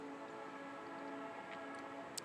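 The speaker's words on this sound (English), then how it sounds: "Train's coming through" A train rumbles past at a distance in a steady, faint wash of rail noise, with a brief high squeal near the end and no voices.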